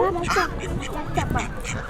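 Ducks quack intermittently at a resort pond, the calls moderately close and mixed with steady outdoor chatter from several people talking over them throughout.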